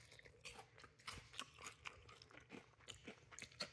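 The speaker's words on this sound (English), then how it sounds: "I hope you guys can hear that ASMR crunch" Crunchy beer-battered Alaska cod gets bitten and chewed right up close, with a quick, irregular run of faint crisp crackles and crunches and no talk.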